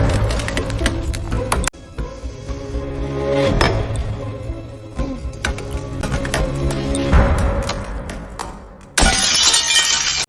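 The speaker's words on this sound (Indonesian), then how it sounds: "dia dengan mudah memecahkan kaca tersebut" A glass window pane, wetted and heated with a hot soldering iron, shatters with loud cracking and breaking, clinking shards continuing through the clip and a bright final burst of breaking glass near the end.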